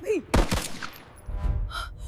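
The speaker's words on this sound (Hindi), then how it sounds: "अभी गोली चलने की आवाज आई है।" Gunshots ring out in a dramatized 1857 battle at the Residency: two sharp cracks in quick succession, followed by rumbling echoes and lower background noise.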